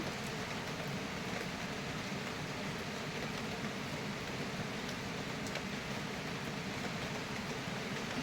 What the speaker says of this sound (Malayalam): നല്ല അടിപൊളി മഴ പെയ്യാണ് കേട്ടോ ഇന്ന്